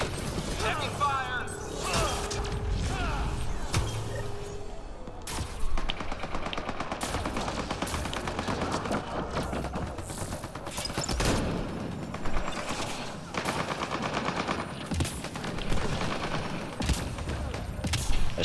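Heavy automatic gunfire rattles through a Mass Effect: Andromeda multiplayer match, with dense, continuous bursts and sharp cracks filling the whole stretch while a voice talks intermittently over the shooting.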